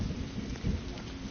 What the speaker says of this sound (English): I can't go out there when it's thundering.